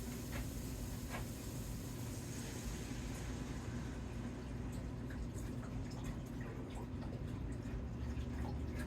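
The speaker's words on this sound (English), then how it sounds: "We're going to go ahead and add 4 cups of vegetable broth." Vegetable broth poured into a Nesco electric pressure canner pot while cooking a white bean ragout, a steady continuous liquid pour with light dripping and splashing that runs throughout at a low, even level, with no talking.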